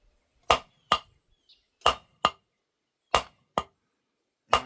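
A hammer strikes metal on an anvil horn while a candle holder is forged, ringing out seven sharp, clanging blows in loose pairs separated by short pauses.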